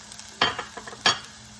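Corn tips into a simmering enchilada mixture in a pan, two short bursts of sizzle and stirring scrape over a faint low bubbling, close and alone.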